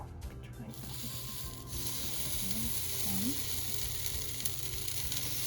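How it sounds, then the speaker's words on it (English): Steady, close sizzling of potato pancake batter frying in a hot pan, a continuous crackling hiss with faint bits of voice in the background. "so now we're gonna put it on the frying pan."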